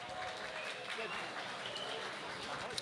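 Spectators applaud after a beetleweight combat robot fight at a tournament, a steady, even crackle of clapping from a crowd, moderately distant, with a voice talking over it.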